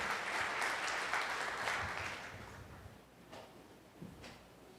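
A church congregation applauds together, steady broad clapping that holds for a few seconds before thinning out and fading, with scattered individual claps near the end.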